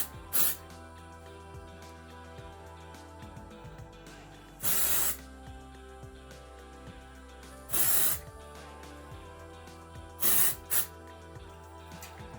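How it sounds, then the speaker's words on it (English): A L'Oreal Professional dry texture spray hisses onto hair roots in short bursts, five close, crisp sprays spaced several seconds apart, with quiet handling in between. "I'm going to take this L'Oreal Professional morning after dust spray, which is kind of like a dry shampoo, and I'm just going to spray that in my root"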